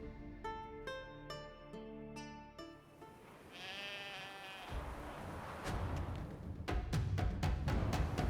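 Several sheep and goats bleat in turn in the video game The Witcher 3: Wild Hunt, some calls high and wavering, others lower, over a quiet background, with a sharper burst of bleats near the end.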